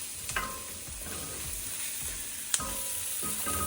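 Onions with half a teaspoon of turmeric powder frying in a pan for Kerala cabbage mezhukkuvaratti, a steady close sizzle with soft scraping stirs and a few sharp utensil taps.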